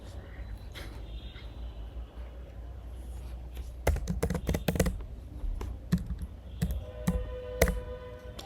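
Typing on a computer keyboard during a coding session: quiet, scattered key taps at first, then denser bursts of sharp clicks, with several distinct louder keystrokes in the second half.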